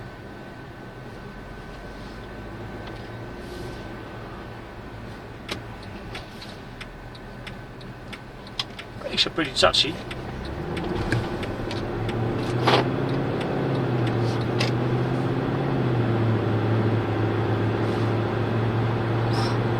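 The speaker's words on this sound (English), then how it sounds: "So this is flaps in the exhaust." A 2008 Mercedes C63 AMG with the P30 performance pack drives with its exhaust flaps open. Its low engine drone swells and grows louder in the second half, with scattered clicks inside the cabin and a brief spoken remark.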